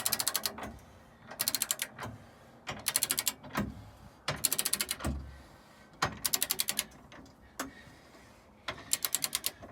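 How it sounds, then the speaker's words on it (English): A ratcheting torque wrench tightening the bolts of an Andersen Ultimate 5th wheel gooseneck hitch to 60 foot-pounds, heard as repeated bursts of rapid close clicking separated by short pauses. "You want to torque this down to 60 foot-pounds."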